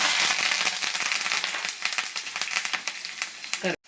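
Dried red chillies and curry leaves crackle and sizzle in hot oil, a dense continuous fry with sharp popping bursts, close and fairly loud, fading out abruptly at the end.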